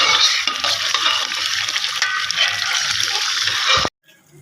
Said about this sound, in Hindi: ये बेसन जो तैयार करके रखा था, साथ अंदर आलू प्याज डाले थे, तो इसे मिक्स कर लेते हैं।